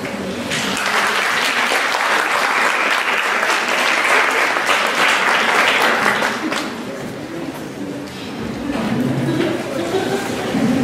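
Sustained applause from a sizable conference audience, dense clapping rolling on steadily for several seconds before tapering slightly, then swelling again.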